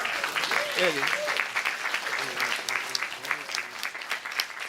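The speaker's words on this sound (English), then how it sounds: "Clap her." Audience applause for an honoree at a scholarship brunch, a steady burst of many hands clapping, with voices talking and calling out over it.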